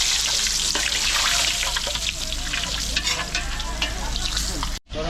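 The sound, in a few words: fried chicken frying in hot oil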